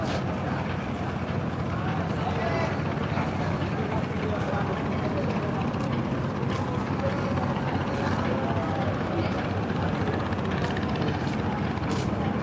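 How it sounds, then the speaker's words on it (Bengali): Passenger launch boat pulling away from the Sadarghat river terminal on a busy waterway, its steady low engine drone continuous and loud throughout, mixed with dense crowd and river ambience. "এই যে দেখতে পাচ্ছেন পুবালি সাত লঞ্চ বেরিয়ে যাচ্ছে কাপ ত্যাগ করে"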